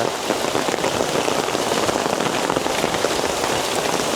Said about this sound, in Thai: คือฝนตกหนักมากนะ